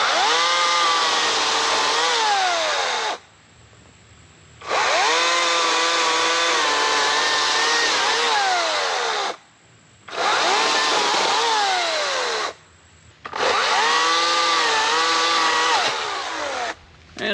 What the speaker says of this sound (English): I like this Alice 80-volt chainsaw a lot